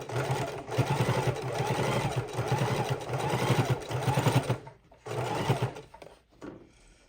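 A sewing machine runs a scant quarter-inch finishing seam around a fabric soup bowl, a steady close whirring rattle that pauses briefly near the end before resuming in short bursts.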